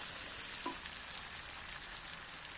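A steady sizzle comes from chicken frying in a pan. It stays fairly faint and constant, with one soft knock early on and no voices.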